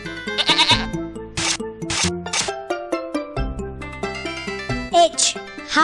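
Goat bleating in an educational ABC children's video game, several short wavering bleats over bright jingly game music, with a voice naming letters and words around it.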